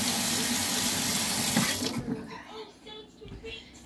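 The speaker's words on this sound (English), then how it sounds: "And now I'm going to wash my hands." Tap water runs steadily into a sink while hands are washed in a home kitchen during bacon cooking, then cuts off partway, leaving quieter handling noises and faint room sounds.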